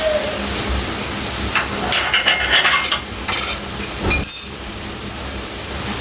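Punjabi meat curry with turmeric, salt and chili spices being stirred in a pot, with scraping spoon strokes and clinks over a constant loud sizzle and frying hiss, close and without talk.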